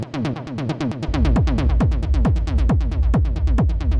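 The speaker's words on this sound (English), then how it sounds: "Some of them are more like kind of SFX weird atonal sound." Weird atonal effects preset on an Ableton Drift synth: a rapid, evenly pulsing train of bright, metallic hits with descending pitch sweeps, loud and continuous, with a heavy low rumble coming in after the first second.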